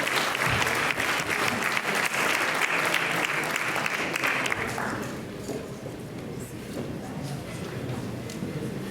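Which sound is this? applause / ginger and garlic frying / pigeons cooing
applause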